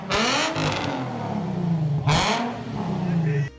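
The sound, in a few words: Nissan 350Z car engine revving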